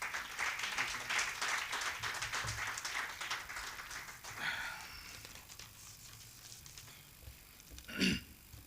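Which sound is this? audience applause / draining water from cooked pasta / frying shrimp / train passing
audience applause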